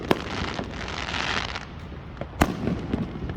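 July 4th fireworks in Katy, Texas go off in a crackling barrage, with sharp individual bangs standing out at the start and again later, fairly close and loud.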